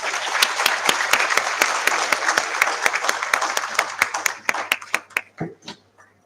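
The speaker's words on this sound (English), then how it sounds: "Can we please have a big round of applause for that?" Audience at an academic conference on Industry 5.0 bursts into full applause that holds steady for several seconds, then thins out into a few scattered, distinct claps before stopping.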